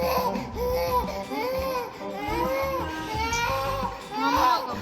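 A baby in a Dubai home cries in repeated wailing bursts, each rising and falling in pitch, fairly close and moderately loud, with short breaths between sobs.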